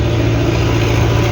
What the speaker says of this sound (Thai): ขอโทษทีรถวิ่งผ่าน